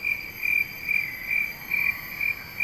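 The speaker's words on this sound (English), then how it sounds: "So I want to hear how field cricket sound like." A field cricket chirps in a recorded playback at an indoor nature exhibit on Sentosa's Imbiah Trail, giving a steady series of high, pulsing trills about every half second, moderately loud with no voices.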